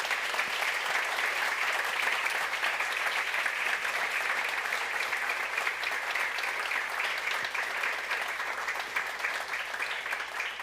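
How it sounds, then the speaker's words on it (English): A conference hall audience at the Neos Conference claps steadily on the center stage for about ten seconds, a dense and even wash of hands at moderate distance with no voices over it. "Give a huge round of applause."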